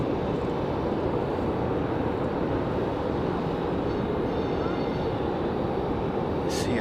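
An American Airlines Boeing 737 takes off from the runway at Raleigh-Durham airport, a loud continuous broadband jet roar holding steady for several seconds, with a faint brief click near the end.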